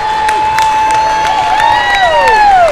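A basketball crowd at a 17U girls' 2A championship cheering and clapping, loud and continuous, with whistles and whoops sliding over a dense roar and scattered sharp claps.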